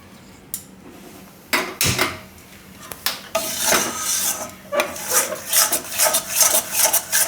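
Jowar flour roasting in melted ghee in a pan on a gas stove, with a spatula clinking and scraping against the metal in irregular bursts, fairly close and loud.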